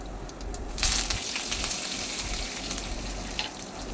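Dried red chillies and curry leaves go into hot oil for a tempering, giving a moderate, close sizzle with a brief louder burst and occasional stirring clinks.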